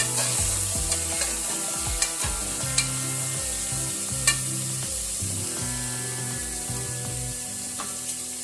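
Chopped onion, potato and capsicum fry in a pan, a continuous hiss of sizzling oil under repeated scraping strokes of a spatula against the pan, close and steady.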